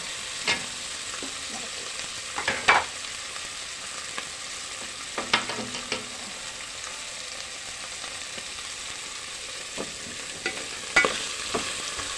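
Tomatoes stirred and softened in a pan while cooking, giving a soft steady sizzle with scattered scraping and clinking strokes of a spoon, close and fairly quiet throughout.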